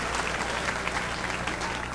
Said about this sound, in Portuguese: Aplauda outra vez ao Senhor Jesus